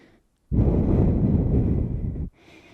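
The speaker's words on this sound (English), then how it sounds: "You hear my heavy breathing." One long, heavy breath during a lower-body workout rushes close to the microphone for nearly two seconds, loud and breathy, with brief quiet before and after.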